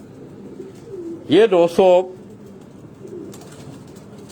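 Pigeons kept at a house give three quick, loud, close coos in a row, with someone speaking briefly around them and quiet room noise before and after.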